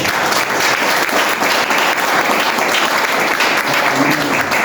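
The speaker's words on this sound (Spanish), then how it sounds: "¿Por qué no le damos un fuerte aplauso?" A church congregation claps in loud, sustained applause, a dense, steady wash of many hands with no pauses throughout.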